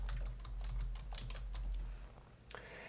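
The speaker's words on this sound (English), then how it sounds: "I start by typing DEF." Keys on a computer keyboard click in a quick irregular run of close, light taps, then fade to quiet near the end.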